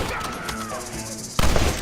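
Gunfire in Red Dead Redemption: a loud, sudden volley of shots bursts in after a quieter stretch, close and sharp, with a voice briefly heard before it.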